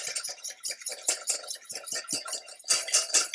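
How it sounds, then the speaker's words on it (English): A whisk beats pumpkin mixture into egg in a bowl, a quick run of close, rhythmic scraping strokes with no talking. "whisking it in"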